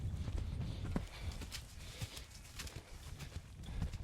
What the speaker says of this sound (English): So I'm going to make him canter here.